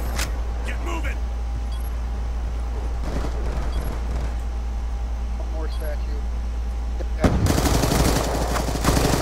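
Gunfire in a first-person shooter match, with bursts of shots over steady game background noise and a louder dense volley near the end; players talk over it.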